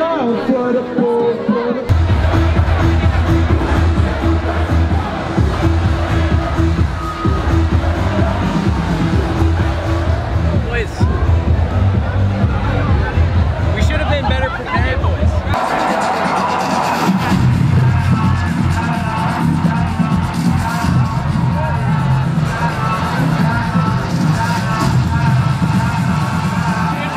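A party crowd in Montreal makes loud, continuous babble and chatter with scattered shouts and bangs, with music running underneath and a sudden shift in the mix partway through.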